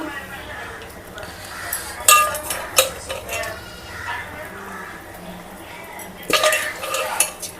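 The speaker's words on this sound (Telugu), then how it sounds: "ఇప్పుడైతే మనము ఈ చిన్న చేపల్ని ఇందులోకైతే వేసేసుకోవాలి" Small fish being dropped into a pot of simmering fish curry, with clinks and scrapes of a utensil against the pot, several sharp knocks between softer stirring, and a voice talking over it.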